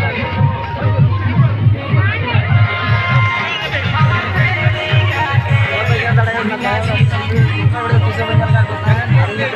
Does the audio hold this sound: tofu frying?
no